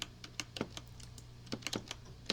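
Rapid clicking keystrokes on a computer keyboard, irregular bursts of close, crisp taps filling the short stretch with no voices.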